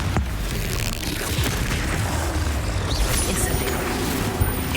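A Confringo fire spell in Hogwarts Legacy explodes in a loud, sustained fiery burst of blasts and crackles that fills the scene without pause.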